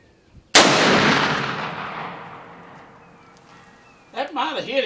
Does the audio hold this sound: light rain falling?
no